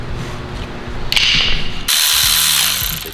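A ratchet clicks rapidly as it loosens the belt tensioner on a Toyota 2JZ engine during a teardown. Close, loud bursts of ratcheting come in two bright runs with a short pause between them and no talking.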